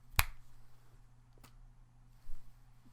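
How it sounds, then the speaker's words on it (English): A left hand snaps its fingers once, sharp and close, followed by a much fainter second click over a quiet low hum. "I'm a righty, but I snap with my left hand."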